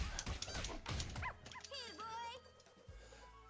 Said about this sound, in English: Use the bark, summon a puppy